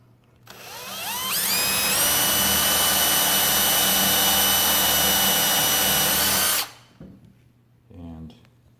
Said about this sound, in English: that's the hole that we're going to be drilling in